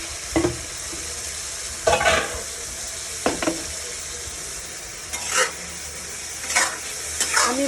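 Fried prawns go into a pan of sizzling spice masala and are stirred, with a steady frying hiss under repeated scraping strokes of a spoon against the pan at irregular intervals.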